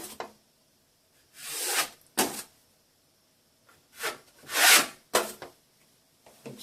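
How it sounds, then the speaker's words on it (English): Several short rasping strokes of a sanding block scrape across plaster in uneven bursts, separated by quiet pauses, close and fairly soft. "so the sanding block will finish that."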